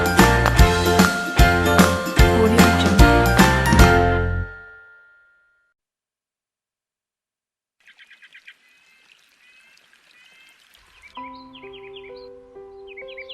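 Crows cawing in a short burst after a loud musical opening and a pause, followed by faint tinkling chimes and soft tones, with no talk.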